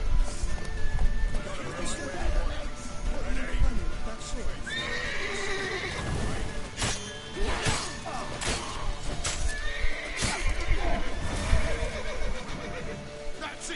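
A horse in the video game Witcher 3 whinnies and gallops with clip-clopping hooves amid game noise, while excited voices shout over it.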